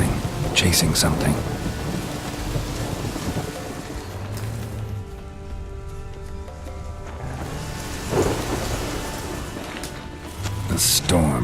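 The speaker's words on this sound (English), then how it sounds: "The storm. Damn it." Heavy rain pours steadily in The Witcher 3 while deep rolling thunder rumbles at the start and again near the end, loud and close, with a brief stretch of game voice in between.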